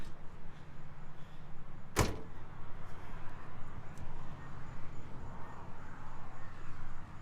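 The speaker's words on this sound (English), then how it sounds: "power windows, which is a really nice feature when you have your convertible" Electric power windows on a Chevrolet Chevelle SS 396 convertible, a steady low motor whir running continuously for several seconds, broken by one sharp click or thump early on, close and moderately loud.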